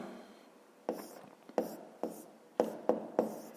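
A pen writes on paper while working a fifth-grade math exercise, making faint, close scratchy strokes in a loose, irregular rhythm of about half a dozen bursts.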